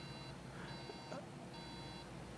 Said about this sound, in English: I'm just going to make sure that it's still beeping while I'm working.